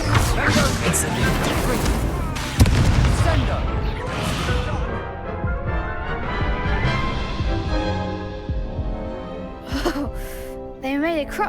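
An Incendio fire spell is cast in the Hogwarts Legacy video game: a dense, loud burst of crashing, whooshing game effects layered over music, with a sharp hit near the start and a busy wash that gradually thins out.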